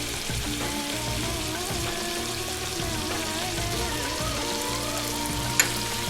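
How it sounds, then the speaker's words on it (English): Sliced onions with a little salt and sugar sautéing in a pan, giving a steady, close, moderately loud frying sizzle with faint stirring and one brief sharp click near the end, no voices. "Now I'm just going to saute them till they become soft."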